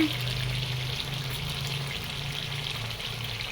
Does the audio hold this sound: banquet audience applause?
no